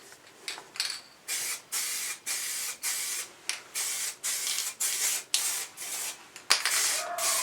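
Liquid wrap coating is sprayed from an aerosol can onto Triumph Tiger motorcycle parts in a garage, about a dozen regular hissing bursts of roughly half a second with short gaps, close and loud.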